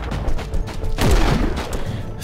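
Aimed gunshots fired in the video game Warhammer 40,000: Inquisitor - Martyr, heavy booming blasts with a sharp impact near the middle over a constant rumbling game background.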